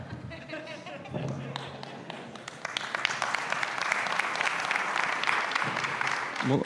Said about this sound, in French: des applaudissements pour Médiamétrie